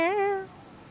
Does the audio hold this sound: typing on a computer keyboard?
no